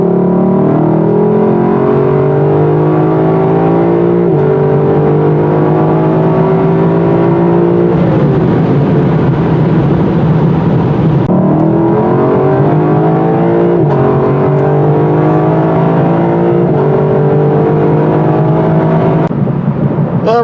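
A 2023 Lexus LC 500 with a V8 is driven hard, its engine revving loudly through rising and falling gear pulls that go on steadily without a break.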